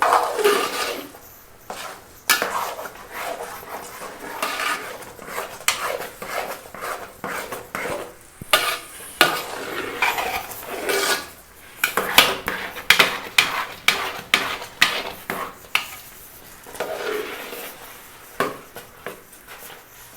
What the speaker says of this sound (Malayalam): അതുകൊണ്ട് അടി നല്ലവണ്ണം ഇളക്കി കൊടുക്കണം.